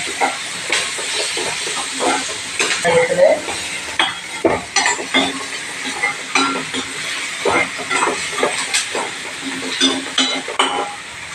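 Onions and curry leaves sauté in a hot pan, a steady sizzling hiss broken by repeated scraping stir strokes and clinks of a utensil against the pan, close and fairly loud throughout.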